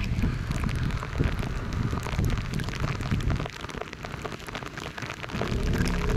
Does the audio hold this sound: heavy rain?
yes